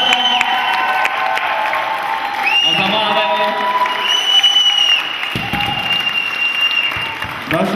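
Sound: applause for Merče Dědíková

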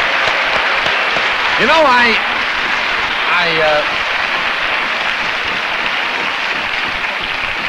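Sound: audience clapping

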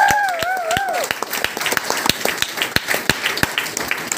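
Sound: audience clapping

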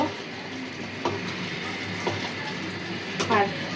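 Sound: mixing sauce in a pan with black pepper

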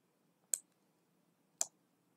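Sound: computer mouse click on scan button

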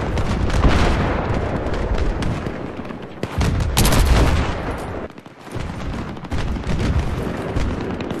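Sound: P90 submachine gun firing in video game Battlefield 3

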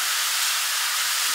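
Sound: onion sautéing in a pan

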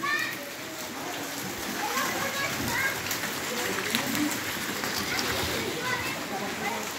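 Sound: rain splashing water at a house

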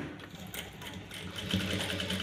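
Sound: sewing machine stitching sponge onto blouse lining cloth

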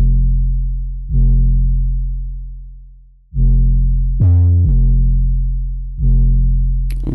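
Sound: 808 bass sample

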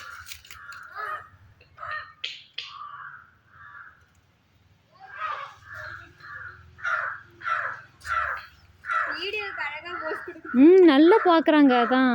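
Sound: crow cawing

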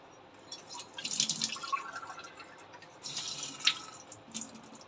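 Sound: water being poured slowly into cornflour mixture

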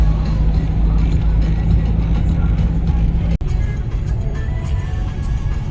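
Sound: hay-laden truck driving on the road

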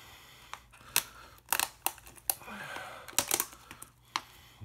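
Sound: opening and unwrapping a box

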